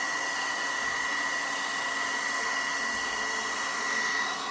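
A 2-in-1 hot air brush hair dryer blows steadily at close range, a constant airy whir with a faint motor whine and no pauses.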